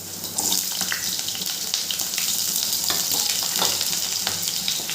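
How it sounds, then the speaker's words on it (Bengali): Cut potatoes fry in hot mustard oil, giving a steady, close hiss and crackle with scattered pops and occasional stirring clatter throughout. "এরপরে আমি কেটে রাখা আলুগুলো দিয়ে দেব।"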